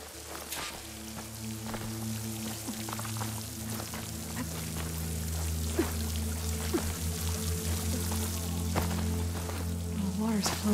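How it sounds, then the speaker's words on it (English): Water in a video game streams from a waterfall into a rock wall, a steady rushing pour under a low droning hum, with scattered small clicks and splashes throughout. "The water's flowing into the wall."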